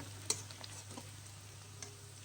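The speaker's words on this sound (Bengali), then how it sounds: "আমি মাছ রান্নার জন্য এই যে পেঁয়াজ ভেজে নিচ্ছি।" Sliced onions frying in oil in a pan for a hilsa fish curry, a soft steady sizzle with a few faint stirring ticks, quiet and close.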